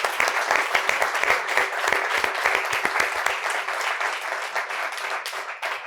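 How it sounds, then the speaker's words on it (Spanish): An audience at an onstage talk breaks into warm applause. Dense, steady clapping from many hands fills the room up close and holds throughout, easing off slightly toward the end. "Os voy a pedir un aplauso para Beatriz"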